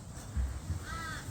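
A crow caws once, a short harsh call heard at moderate distance over quiet outdoor background, with no voices.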